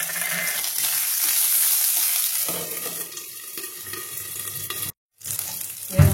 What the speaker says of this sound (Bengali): এবার দিয়ে দেবো আমি কাঁচা লঙ্কা চেরাটা ফোড়নের মধ্যে।